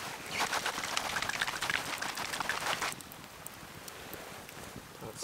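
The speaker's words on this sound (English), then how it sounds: "I should be able to swish it out." Water is swished around inside a container to rinse out leftover sauce at a snowy mountain campsite, making a close, busy sloshing splash that stops after about three seconds and leaves quiet outdoor background.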